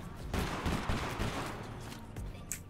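Bursts of rapid gunfire from the video game Totally Accurate Battlegrounds, several close volleys in quick succession, with faint game ambience between shots.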